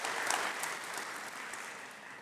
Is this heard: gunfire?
no